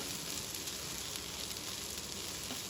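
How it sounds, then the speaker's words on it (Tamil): Steady, dense sizzling from beans sautéing in a hot pan, an even crackling hiss with no talking. "பீன்ஸ் நல்லா வதக்கிக்கலாம் பீன்ஸ் கொஞ்சம் வதங்கினதும்"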